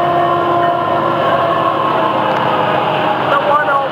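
A heavy FEC freight train rumbles steadily past at close range, a continuous droning roar of engine and rolling cars with a faint squeal of metal near the end.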